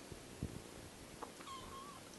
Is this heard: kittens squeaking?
yes